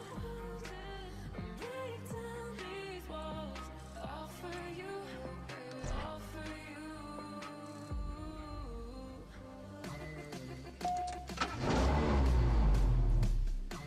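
A car engine races in the mobile racing game CSR 2, a steady electronic engine drone with gear-change dips over game music, swelling into a loud rev burst near the end.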